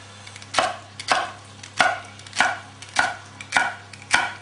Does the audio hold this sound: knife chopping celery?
yes